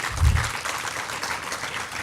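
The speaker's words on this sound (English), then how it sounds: "So can we have a round of applause for him?" Audience applause fills a room at a college event honouring a person, starting with a burst and then holding as a steady wash of clapping for about two seconds.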